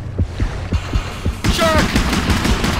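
Rapid gunfire from dual rescue guns in a horror video game, a run of sharp evenly spaced shots followed by a denser burst of firing and a rising whine.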